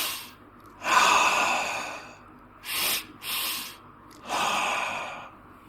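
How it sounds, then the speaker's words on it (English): A person demonstrates double breathing: a long loud inhale, then two short close breaths in quick succession and a final long exhale, breathy and near with no talk. "a technique that I call double breathing"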